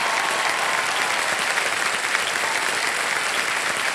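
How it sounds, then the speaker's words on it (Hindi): Dense, steady applause from a television quiz show studio audience fills the whole stretch, loud and continuous, cheering a contestant with no voices standing out above it. "तालियां बजती रहे जसमीत जी के लिए।"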